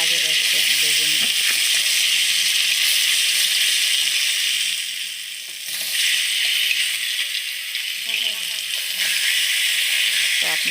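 A fish, head first, frying in mustard oil gives off a loud, steady sizzling hiss that fills the whole stretch, easing briefly midway before surging back.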